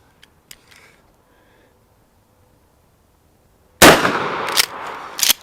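A 20 gauge Mossberg Shockwave or Remington TAC 14 shotgun fires one loud, sharp blast after a stretch of near silence, and a rough, rolling echo follows.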